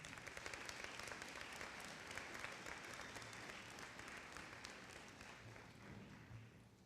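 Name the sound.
audience applause for the graduates' loved ones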